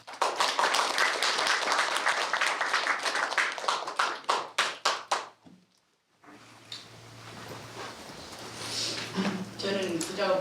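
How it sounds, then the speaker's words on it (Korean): A crowd at a Jeju 4.3 memorial gathering claps in a dense burst that breaks into slower rhythmic claps and fades, followed by quiet talking over a low hum. "큰 박수로 이제 맞이하겠습니다"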